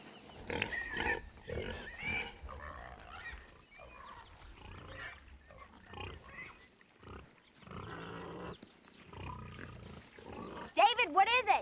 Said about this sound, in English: Are those pigs drunk?